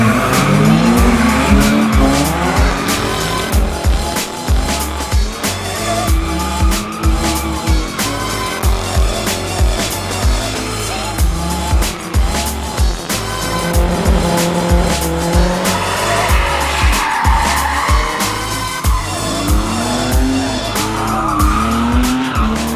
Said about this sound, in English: we're doing race car things with our race car friends and going drifting